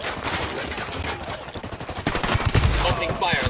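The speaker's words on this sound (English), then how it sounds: "Opening fire on these fuckers." Rapid gunfire crackles in the tactical shooter Ghost Recon Wildlands, dense automatic bursts and overlapping shots that grow heavier and louder toward the end, with no clear talk over them.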